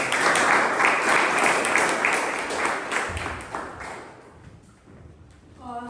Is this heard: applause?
yes